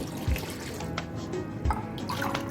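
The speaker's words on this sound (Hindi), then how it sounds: "और अब हम इसमें इतना पानी ऐड करेंगे कि ये पाए जो है हमारे पानी में डूब जाए।" Water is poured into a cooking pot of goat trotters, giving a soft running trickle with a couple of low splashing thumps, close by and moderately quiet.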